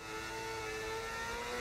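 An F1 25 video game racing car with Cadillac livery drones with a steady, continuous engine whine, a sustained high-revving tone with a humming undertone and no voices.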